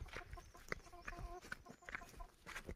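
Chickens cluck repeatedly while being carried to an animal market, a run of short close clucks and squawks in an irregular rhythm, moderately quiet, with no talking.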